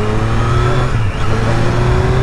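A 2024 Triumph Street Triple R A2 motorcycle engine drones loudly and steadily while riding, a continuous humming tone with little change in pitch.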